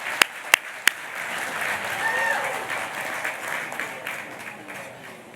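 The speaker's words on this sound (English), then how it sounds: "How about a round of applause?" Audience applause at a charity gala after a singer's performance, a steady wash of clapping with a few sharp, close claps at the start, a brief murmur of voices mixed in, and the applause sustained at moderate level throughout.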